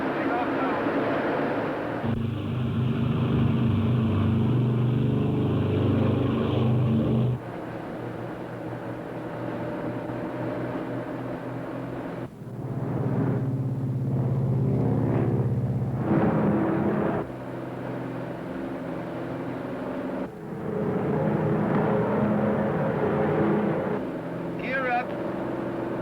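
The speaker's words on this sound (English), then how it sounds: "Ready for takeoff. Takeoff power. Takeoff now." Airplane engines at takeoff power drone steadily through a takeoff roll, a low continuous roar that shifts in level in a few stretches while someone talks over it.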